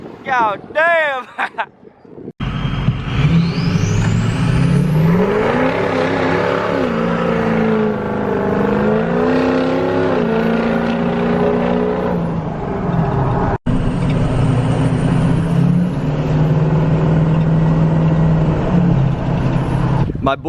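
A loud Ford 6.0 Powerstroke diesel truck with a strong turbo whistle drives by close, its engine building through a steady roar with shifting tones and pulling away near the end.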